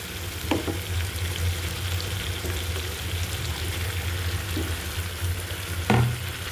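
Pabda fish go into a pan of tomatoes frying in oil, raising a steady close sizzle with a low bubbling undertone, a few sharp clinks of the spatula against the pan, and no speech.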